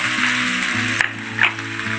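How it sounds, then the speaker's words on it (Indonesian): Sliced shallots sauté in a little cooking oil in a pan, giving a steady, close sizzle with a few brief stirring clatters and no talk. "Sekarang bawahnya kita tumis bawang merah tadi ya bun, yang udah kita iris."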